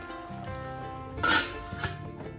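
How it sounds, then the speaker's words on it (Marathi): A lid goes onto a pot of amla murabba, Indian gooseberries cooking in sugar syrup: one bright metallic clink stands out, followed by a smaller knock, over the low simmer of the pot and some faint kitchen ringing. "आता आपण ह्याच्यावर झाकण ठेवून देऊया"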